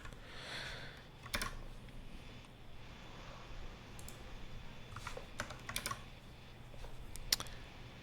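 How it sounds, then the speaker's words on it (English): Faint computer-keyboard typing comes in scattered, irregular clusters of sharp clicks with pauses between them, heard close and alone over a low steady background hiss. "I'm having trouble typing."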